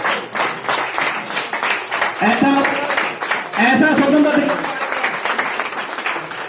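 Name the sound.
audience applause at a ceremony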